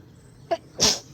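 A person sneezes outdoors in a field: one short intake, then a single loud, sharp sneeze close to the mic over quiet outdoor background.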